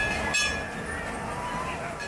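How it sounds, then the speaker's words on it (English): A Runaway Mine Train roller coaster car at Alton Towers rattles along the track with a steady rumble, faint clinks and a brief louder clatter near the start. "fantastic ride there on the Runaway Mine train"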